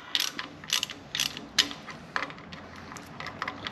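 Ratchet clicking in short bursts while bolts are tightened on a Ford 4.6L 3V modular V8 engine during assembly, close and crisp, with about five or six quick ratcheting runs separated by brief pauses and no talk.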